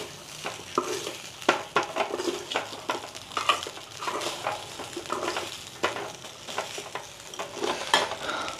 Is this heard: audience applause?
no